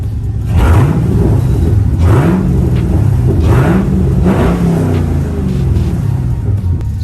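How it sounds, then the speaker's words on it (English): A widebody Camaro 2SS V8 engine revs several times in rising and falling pulls over a deep, loud rumble, heard close up with no talking. "Now that beast started, I'll give you guys a couple revs."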